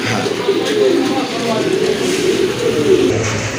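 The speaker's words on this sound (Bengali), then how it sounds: "খুবই সুন্দর অনেক বড় সাইজের একটা মাদি কবুতর" Pigeons, including a large female, coo softly in low, repeated throaty calls at a pigeon sale, mixed with bustling background noise and nearby chatter.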